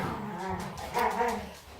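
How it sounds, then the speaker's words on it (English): Dogs play indoors, making close whimpers, yips and grumbling growls in a short burst, fairly faint overall. "Sorry, the dogs are playing."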